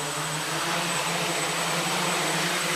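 A small drone hovers in a lab demonstration, giving off a steady, close motor whir with a thin high-pitched tone running continuously underneath.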